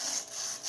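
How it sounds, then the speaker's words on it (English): Sandpaper smooths off the edge of a hole with a brief, soft, close scratchy rub of about two short strokes. "You should smooth off the hole with a sandpaper."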